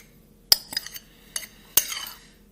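Spoon clinks and scrapes against a bowl while mixing thick, goopy gluten-free bun dough with seeds, a few sharp irregular knocks with quiet gaps between, close and alone.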